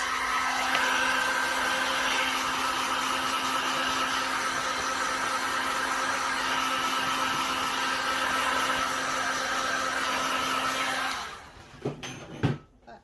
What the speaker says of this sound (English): I'm just going to get my little heat gun out.